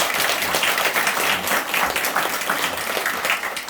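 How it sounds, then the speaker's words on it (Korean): A crowd at a Buddha's Birthday dharma service claps loudly in dense, sustained applause that fills the room evenly with no break. "박수 한번 쳐주세요."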